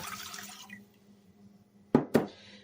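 Filtered water poured into a cooking pot, a brief close splashing pour with two short sharp bursts near the end after a quiet stretch.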